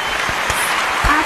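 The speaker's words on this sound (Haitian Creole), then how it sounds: "Applaudis" An audience claps for the winner of a contest, a short burst of steady, close applause with a few heavier hand thumps standing out.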